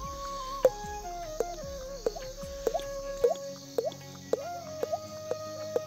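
A man at a Janmashtami fair imitates water drops with his mouth, making a steady series of about ten resonant plinking drip sounds at regular intervals, close and clear, alone without talk.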